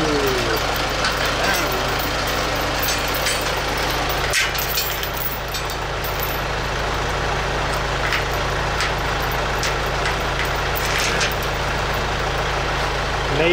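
A tractor engine runs steadily at close range while being used to pull up long carport spikes, a loud, continuous low rumble with no break for the whole stretch.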